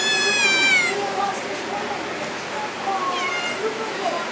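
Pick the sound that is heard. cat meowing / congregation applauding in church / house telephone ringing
cat meowing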